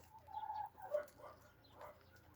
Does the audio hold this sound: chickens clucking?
yes